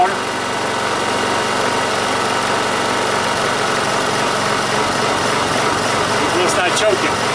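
A Honda EU2000i inverter generator runs at a steady, continuous drone while its regulator screw is adjusted. It holds an even level throughout, with a few brief higher rattles near the end.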